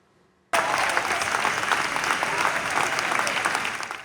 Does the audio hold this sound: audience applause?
yes